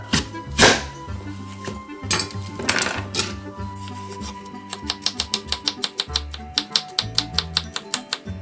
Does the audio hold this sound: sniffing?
no